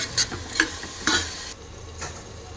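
Soaked cowpeas and peas tipped into a hot pan for Khandeshi masala rice, sizzling softly while a spoon stirs in a few scraping bursts, close by with no talk.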